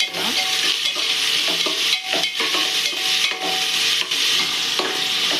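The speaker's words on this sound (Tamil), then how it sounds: "அதோட 3 பச்சை மிளகாவே சேர்த்துக்கலாம். கீரி வச்சுருக்கேன் 3 பச்சை மிளகா. நல்லா வதக்கிடலாம்." Three green chillies sautéed in oil in a pan give a steady, close sizzle. A spatula scrapes and stirs through it continuously and metal clinks against the pan now and then. No one speaks.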